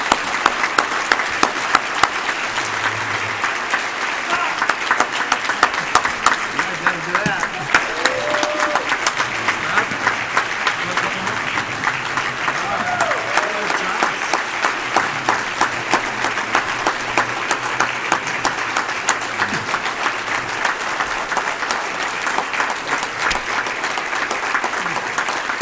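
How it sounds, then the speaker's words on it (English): An audience at a breakfast gathering gives a long round of applause for Bob, steady close clapping from many hands that holds evenly throughout. "let's give Bob a round of applause to show our appreciation"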